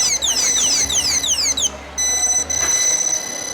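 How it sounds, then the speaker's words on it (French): An anti-theft security alarm sounds on a display phone in a retail store after the phone is unplugged. Rapid repeating electronic chirps sweep downward, then settle into a steady piercing high tone, loud and close. "Une fois qu'on le débranche, automatiquement il sonne."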